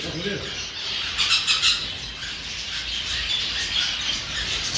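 Many caged birds squawk and chirp at a busy bird market in Kappelle, where pigeons are sold. The calls overlap into a dense, continuous chatter, with a few louder squawks standing out.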